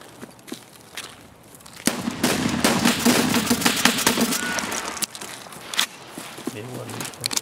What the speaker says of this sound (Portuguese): Ele tá me atirando.